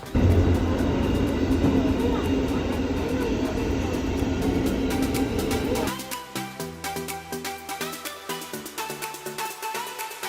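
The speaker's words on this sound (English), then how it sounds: "the Namboku line uses long, slanted rails to limit the train's noise" A Tokyo Metro Namboku line subway train rumbles loudly along long, slanted rails, then the noise drops to a rhythmic clatter of wheels over track joints.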